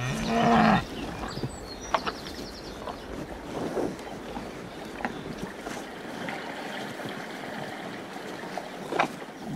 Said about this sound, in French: Les vaches partagent les eaux de l'étang avec les animaux de la forêt.